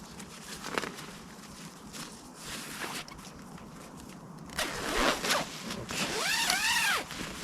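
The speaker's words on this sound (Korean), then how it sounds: "지퍼에 있기 때문에 지퍼를 채우게 되면 사각 침낭으로 쓸 수 있죠" A sleeping bag zipper is run closed in a camp setting, several raspy zipping strokes that grow louder and more continuous in the second half, with faint rustling of fabric before them.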